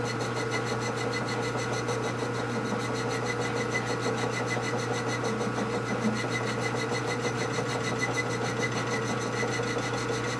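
A lathe cutting a flywheel truing tool for a Milwaukee-Eight crankshaft gives a steady close rasping, scraping drone with a constant hum and a fast even pulse throughout, no talk.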